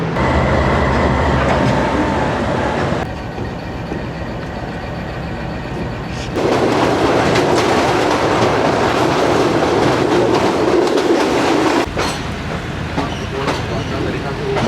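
The 101 Up rail car runs on the Lahore to Rawalpindi line, giving a loud, continuous rumble and clickety-clack of wheels over the track that swells and eases in sections.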